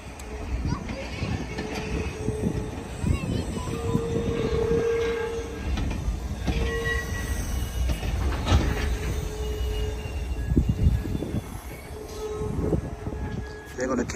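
An Amtrak train passes at Santa Clara station with a loud rumble of wheels and rail cars, short horn tones and squealing wheels, while people talk nearby throughout.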